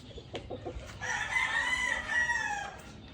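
A game rooster of AEJ bloodline crows once, loud and close, with a long cock-a-doodle-doo rising and falling over a few soft clucks, in a quiet farmyard.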